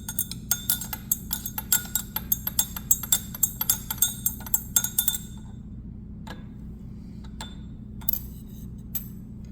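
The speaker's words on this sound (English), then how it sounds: "Dip this in here. Give it a quick stir." A pH probe stirred in a glass beaker of calibration solution, sharp rapid glass clinks in a quick rhythm for about five seconds, then a few scattered taps near the end.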